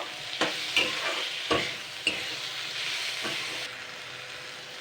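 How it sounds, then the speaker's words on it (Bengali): A fish head stirred in a pan with salt, turmeric and sugar gives a soft continuous sizzle, punctuated by a handful of distinct spoon scrapes and knocks, close up and without speech. "এবার আমি নুন হলুদ চিনিটা দিয়ে দিচ্ছি স্বাদ মতন। এটা দিয়ে আমি জাস্ট 2 মিনিট নাড়ব"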